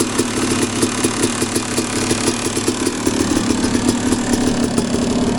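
A Panthera E-start engine idles slightly low in a steady, loud, close rumble with an even rapid firing pulse and no voices over it.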